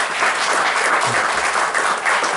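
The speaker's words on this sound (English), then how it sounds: "Can we have a round of applause for just the History Museum?" A museum audience at a Tuesday talk breaks into applause, a dense, even wash of many hands clapping at once that holds steady for a couple of seconds.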